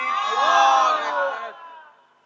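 A large crowd at a Bengali religious gathering answering a takbir call with a loud, unified chant, the massed voices swelling and then fading away.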